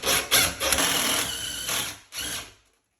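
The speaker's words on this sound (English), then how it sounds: "Just go ahead and drill these holes." A power drill with a 7/16 bit bores holes for a sliding barn door bracket, giving a few close, loud whirring bursts that stop and restart before trailing off.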